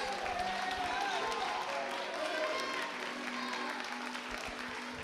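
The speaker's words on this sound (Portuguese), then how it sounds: "Você pode aplaudir a Ele e dar glória a Deus." A church congregation applauds in a sustained, even wash of clapping, with raised voices and some musical tones carrying underneath throughout.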